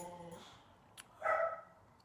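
A dog barks outside at another dog: one brief sharp yelp is followed by a louder, longer bark, both slightly distant, after a faint tail of music and with no speech.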